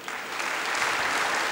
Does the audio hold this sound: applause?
yes